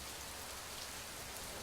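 Drizzling rain falling steadily over Bengaluru, a soft continuous patter with no voices.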